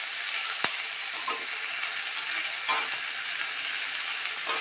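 Cut papaya and onions sizzle and fry in a pot for a mutton leg bone stew, a steady, moderately loud hiss broken by a few sharp clinks and scrapes as the pieces are stirred.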